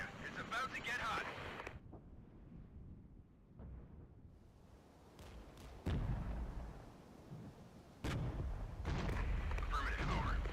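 Mortar fire in a Cold War combat video game: several heavy booms and blasts, some near and loud, others farther off, breaking through a busy battlefield mix with voices talking over it.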